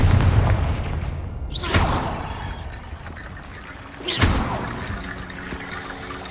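Confringo fire-blast spell in the video game Hogwarts Legacy, two loud bursts a few seconds apart, each a sharp whooshing blast that fades into a rumbling, watery tail over low background noise.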